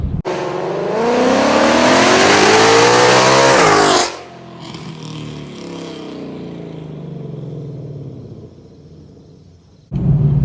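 A 2018-19 Ford Mustang GT V8 with longtube headers revs hard and loud, climbing in pitch for several seconds before dropping to a rumbling idle, then barking again at the end.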